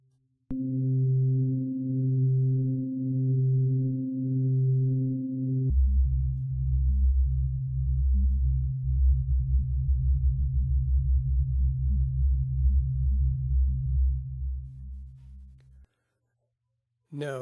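A synthesizer using FM synthesis holds a steady tone, then drops an octave into a lower, buzzier pitch. It sustains alone with faint wavering pulses for about ten seconds before cutting off.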